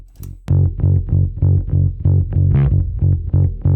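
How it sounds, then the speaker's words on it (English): Electric bass run through a SansAmp plugin thumps out a loud, steady, gritty string of low notes after a brief click, with no voices. "Bring in the Sans amp."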